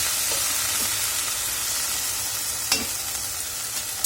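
Okra (bhindi) fries in a spoonful of oil in an uncovered pan, giving a steady, loud, close hiss with a few faint spoon taps.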